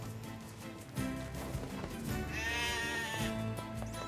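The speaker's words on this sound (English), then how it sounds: "Did that sheep just try and kick me when I ran by?" In the video game NieR Replicant, sheep bleat in short bursts over layered game audio and faint hoof clip-clops, with a brief bright call near the end and no speech.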